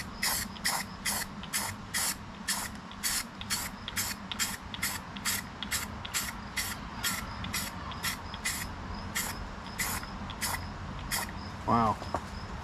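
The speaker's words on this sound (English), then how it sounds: "a first little coat with this brilliant metal finish. It's just called Rust-Oleum Metallic." Rust-Oleum Metallic silver spray paint going onto a part of a 1991 Craftsman LT4000 garden tractor: a long series of short, evenly spaced hissing spray bursts, close and clear over a low background hum.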